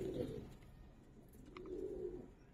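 A male khaki Giribaj pigeon coos twice, the low, soft, rolling calls sounding faint against quiet background noise.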